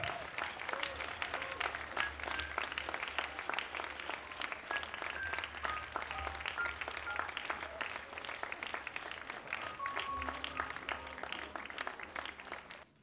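Steady applause from an audience at a matura certificate ceremony for a graduating class, continuous and moderately distant, with a faint musical tone running underneath.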